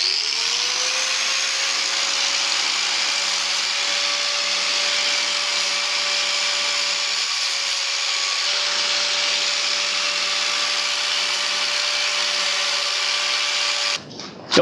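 Sanding the filler on a Honda Transalp fuel tank: a steady whining power-tool drone held at an even pitch close up for the whole stretch, cutting off abruptly at the end.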